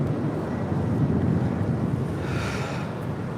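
An airplane takes off at LAX: a loud, continuous low roar holds steady throughout, roughened by wind buffeting on the microphone.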